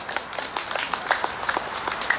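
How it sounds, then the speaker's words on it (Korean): Scattered audience clapping greets a ukulele busking group, light and somewhat distant, a brief patter of hands with uneven rhythm. "큰 박수 부탁드립니다."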